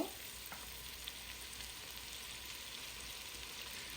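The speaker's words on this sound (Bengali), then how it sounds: "তো এই যে পেঁয়াজটাকে একটু বাদামি কালার হওয়া পর্যন্ত অপেক্ষা করব।" Sliced onions and green chillies frying in a pan for a prawn malai curry, giving a steady, quiet sizzle and crackle throughout with no talking.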